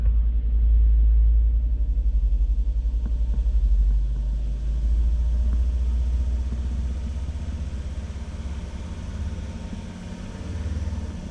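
A 2.4 non-turbo petrol engine in a Volvo S60, freshly repaired after a misfire, gives a deep, steady rumble close by that rises slightly as the throttle opens and then settles, with no talk.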